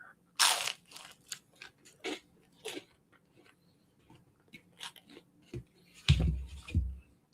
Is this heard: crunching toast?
yes